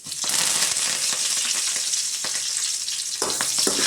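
Fenugreek seeds and curry leaves frying in hot oil while tempering a papaya moru curry: a loud, steady sizzle and crackle with small pops throughout, and a fresh burst of spitting near the end.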